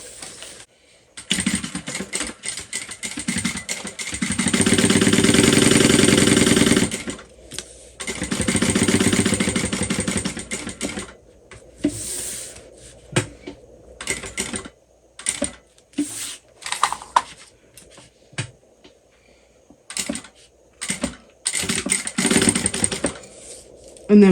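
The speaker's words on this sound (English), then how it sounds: "I'm going to sew the box that I just marked out." A sewing machine stitches a box seam on a waterproof canvas crossbody bag, with loud, fast mechanical runs and short start-stop bursts separated by quiet pauses.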